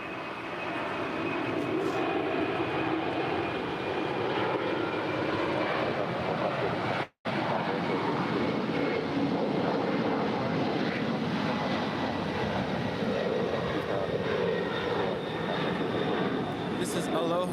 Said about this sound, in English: This is Aloha Air Cargo Flight 8201 departing to Honolulu. It's a 28-year-old Boeing 767-300 ER.